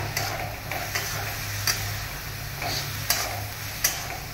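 Boiled banana flower with turmeric is sautéed in a pan, giving a soft, steady sizzle broken by sharp, regular spatula taps roughly every half second to second, with a low background hum.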